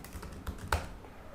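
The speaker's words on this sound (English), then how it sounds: "So I'll just start typing" Several quick keystrokes tap on a computer keyboard, close and quiet, with one sharper click near the end.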